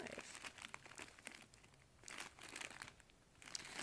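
Very faint, dry crinkling and crunching close by as whole dried hibiscus flowers are rubbed or squeezed, in soft irregular bursts.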